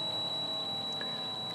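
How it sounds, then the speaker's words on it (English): A Webasto heater's MOSFET driving the glow plug emits a steady, thin high-pitched whine over a constant electrical hum, unbroken and fairly close, with faint ticking throughout. "That is the noise of the MOSFET driving the glow plug"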